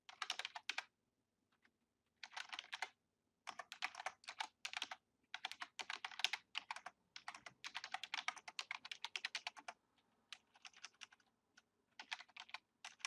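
Rapid typing on a computer keyboard in short bursts separated by pauses, crisp close clicks at a soft level with no talking.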